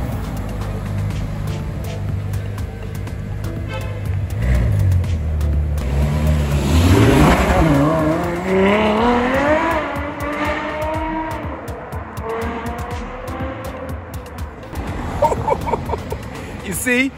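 A Ferrari F12 revs on a London street, its engine climbing in rising sweeps that swell loud and close, with street noise around it and a brief later burst of throttle.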